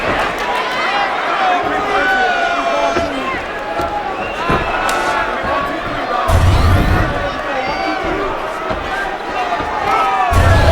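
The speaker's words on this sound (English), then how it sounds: "Crowd is electric here inside the MGM Grand Garden Arena." An arena crowd at a UFC fight inside the MGM Grand Garden Arena roars continuously, with cheers and shouts swelling at moments. Other voices talk over the din throughout.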